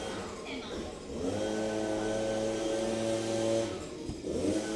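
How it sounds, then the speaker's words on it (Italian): A moped engine revs in the street below a house, a droning mid-pitched buzz that rises and holds with throttle blips, heard from indoors through a window. "c'è questo col motorino che mi sta sgasando sotto casa"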